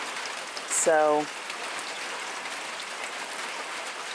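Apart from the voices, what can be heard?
light steady rain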